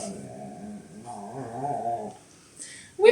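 A small dog named Ipso whimpers and whines in soft, drawn-out rising tones for a couple of seconds, close by and moderately loud, before a brief louder yelp at the end.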